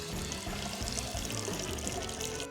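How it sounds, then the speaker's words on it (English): Beer pours into a cup in one continuous, loud, close splashing stream from height, with no speech over it. "Got a pretty good pour out of that."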